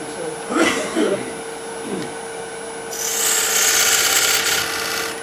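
A wood lathe spins while a turning tool cuts a dovetail into the workpiece, giving scraping, rasping contact bursts followed by a louder sustained shaving hiss over a steady motor hum, close by.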